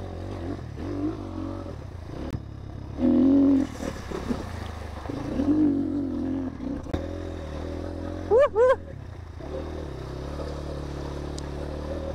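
A road motorcycle rumbles at a steady low idle-to-cruise pace along a slippery riverbank, its engine close and continuous beneath a rider's frequent talking and occasional exclamations.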